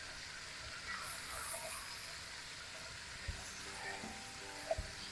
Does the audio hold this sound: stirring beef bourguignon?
yes